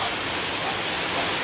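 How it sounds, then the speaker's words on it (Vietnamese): Rain falls steadily over a rural village, a dense, even hiss that stays constant and fairly loud with no voices on top. "trời đang mưa"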